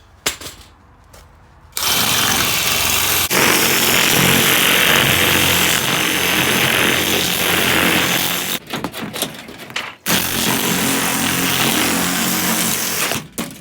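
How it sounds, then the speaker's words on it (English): A Malco turbo shear cuts aluminum sheet for a broiler chicken coop, giving a loud, steady, high-pitched mechanical whine with brief pauses and restarts. "That's a Malco turbo shear is what it is."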